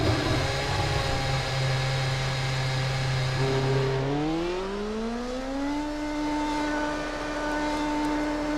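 A racing car engine in the Formula 1 2013 game idles with a steady buzzing drone, then revs up in a smooth rising pitch and holds a higher steady whine, loud and close throughout.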